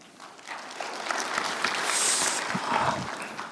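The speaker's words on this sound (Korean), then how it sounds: "큰 박수 부탁드립니다." An audience at a seminar on selling through Amazon applauds as a company's co-founder is welcomed to the stage, a steady wash of clapping that swells and holds for a few seconds.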